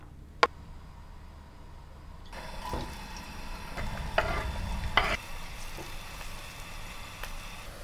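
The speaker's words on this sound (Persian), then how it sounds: "پیاز رو برم بریزم تفت بدم" Chopped onions sizzling in hot oil in a frying pan while being stirred, with several sharp utensil scrapes and clinks against the pan over a steady crackle, heard close and alone.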